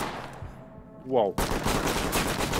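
Heavy gunfire erupts in the tactical shooter game Ready or Not: after quieter sounds and a brief tonal swell, a loud dense burst of rapid shots fills the rest of the moment, close and sustained.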